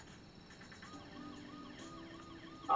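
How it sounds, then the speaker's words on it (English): A faint wailing police siren from the video game The Escapists 2 rises and falls in the background, thin and electronic-sounding, with a brief louder blip at the end. "I hear the sirens."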